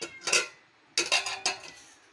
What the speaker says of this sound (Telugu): మూత తీస్తాను.